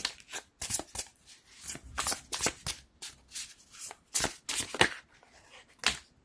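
Tarot cards shuffled by hand in repeated crisp riffling bursts, close and fairly quiet, with short pauses between runs and no voices.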